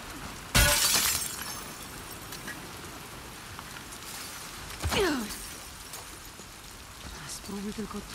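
Glass shatters in The Last of Us Part II video game: one sharp, loud crash of breaking glass near the start, with fainter crunching and scattered debris sounds afterward over a steady rain-like background.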